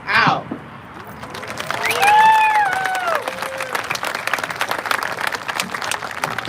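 Graduation crowd applauding and cheering for student speakers, valedictorians and class president, a swelling wash of clapping with whoops and cheers, loud and sustained, with a voice speaking at the start.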